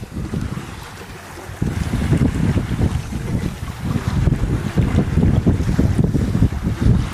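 A sailboat running under its jib alone at just under 5 knots, with steady loud wind buffeting the microphone and water rushing along the hull, surging stronger after the first couple of seconds.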